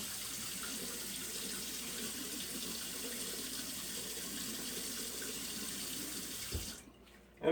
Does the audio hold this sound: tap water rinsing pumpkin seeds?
yes